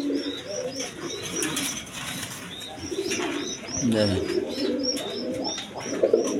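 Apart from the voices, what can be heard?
pigeons cooing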